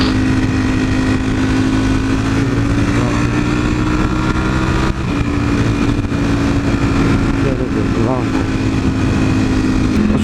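A superbike's V4 motorcycle engine drones loud and steady at part throttle, close and continuous, with wind rush and a brief dip midway.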